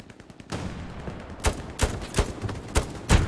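Enemy machine gun fire in Hell Let Loose, an MG250 firing a steady stream of rattling shots with several sharp, louder reports standing out, heard alone without talk.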